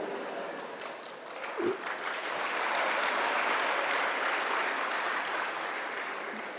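An audience claps in a broad, dense wash of applause that swells after a couple of seconds and holds steady to the end, with no voices over it.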